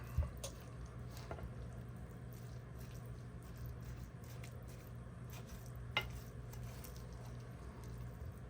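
A salad is tossed with a heavy wooden spoon, producing quiet, wet squishing and stirring sounds with occasional light clicks of the spoon against the bowl, close and steady, with no talking.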